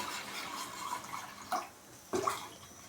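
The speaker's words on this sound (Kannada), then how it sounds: "ಹಾಗೆ ಒಂದು ಖಾಲಿ ಪಾತ್ರೆ ಇಟ್ಕೊಂಡಿದ್ದೀನಿ ಸ್ವಲ್ಪ ನೀರು ಹಾಕೋತಾ ಇದ್ದೀನಿ" Water pours into an empty pot for jaggery tea, a continuous trickling splash that thins out, then two short sloshing bursts near the end, close and without voices.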